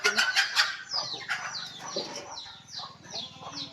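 Farm chickens cluck and squawk close by in quick, overlapping bursts that keep going without a break, with no talking.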